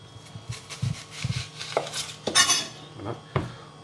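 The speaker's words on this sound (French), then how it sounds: "j'ai épluché mon oignon. Maintenant ce qu'on va faire c'est qu'on va venir le trancher." A peeled onion sliced with a knife on a board, a series of close, irregular chopping taps and knocks with sharper clattering strikes in between.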